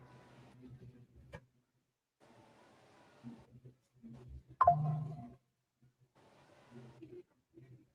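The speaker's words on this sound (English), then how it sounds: "That was my phone." A mobile phone notification chime rings out once, brief and fairly loud, in a quiet room where someone sews a pumpkin pouch, with soft talking before and after it.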